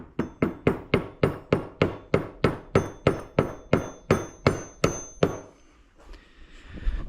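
A seal being tapped into place around its edge while servicing a Can-Am, about twenty evenly spaced, sharp metallic hammer taps in a steady rhythm, close and clear, then stopping into a quiet rustle.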